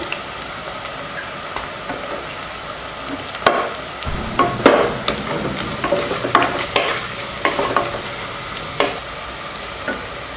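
Onion and green chillies frying in a pan, a quiet hiss that swells into a loud, close sizzle with repeated spatula scrapes and stirring knocks.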